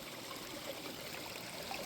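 Water flows and trickles steadily in a koi pond in winter, a faint, continuous stream with no voices.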